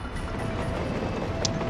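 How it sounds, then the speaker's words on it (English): A coal-hauling freight train rolls along rails in the Soviet-era city-building game Workers and Resources: Soviet Republic, a steady, continuous rumble throughout. "I ordered my train to take another short trip to deliver coal."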